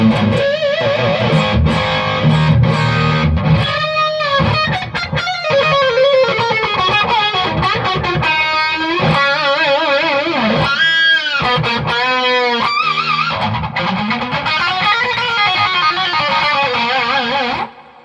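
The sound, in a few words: electric guitar through Egnater Tweaker 88 amp, high gain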